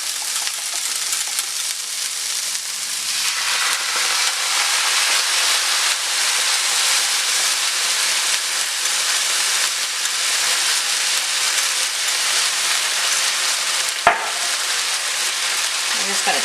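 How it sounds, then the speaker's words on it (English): General Tso sauce hits a hot pan of chickpeas with loud, steady sizzling and hissing that carries on unbroken, with a sharp clack near the end and a voice faintly audible at the start. "Now it's time to add in your General Tso sauce."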